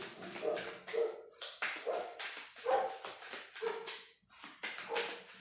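A large pet dog barks repeatedly in a steady series of loud, close woofs, some with a whimpering edge, with no talk over them.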